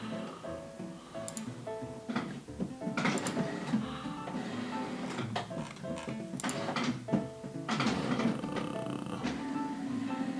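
A home printer runs through a print job of family documents, its mechanism whirring and clicking in bursts with sliding, clunking paper feeds, fairly close and steady for the whole stretch, with no voices over it.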